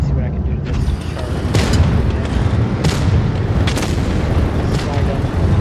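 Heavy tank cannon shots boom in War Thunder, fired from an SMV CC-64 Vipera. Several loud blasts come through a dense, continuous roar of engine and battle noise.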